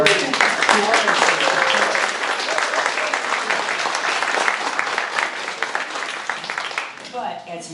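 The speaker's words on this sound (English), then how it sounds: "Let's have a round of applause for Doris." Loud, full applause from an audience at a writers' reading event welcoming an author, continuous clapping with some crowd noise mixed in, fading slightly near the end.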